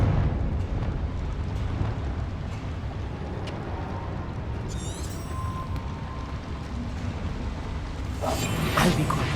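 A Confringo blasting spell explodes in Hogwarts Legacy as a deep rumbling roar with crackling debris and bright bursts, steady and dense throughout and swelling again toward the end, with no talk.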